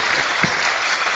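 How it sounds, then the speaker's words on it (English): Audience applause for a panel discussion on an Ohio ballot issue, a steady dense wash of clapping throughout with no talk. "I want to give these people another round of applause and thank them for their time"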